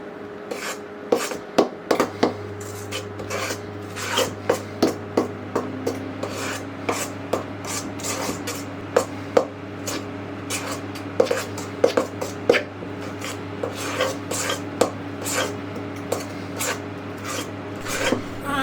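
A metal spoon scraping and folding flour into lemon drizzle cake batter in a bowl, repeated soft rasping strokes and light clinks against the bowl, close up over a steady low appliance hum, no talking.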